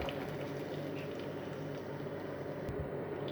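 Fried garlic tipped into a pot of cooking beef kala bhuna, a steady low sizzle and bubbling hiss that holds evenly at moderate volume with no voices.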